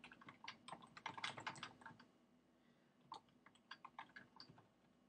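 Rapid keystrokes on a computer keyboard while code is entered, coming in close, crisp bursts of clicking with a short pause in the middle before the typing resumes.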